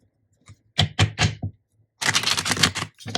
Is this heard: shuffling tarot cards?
yes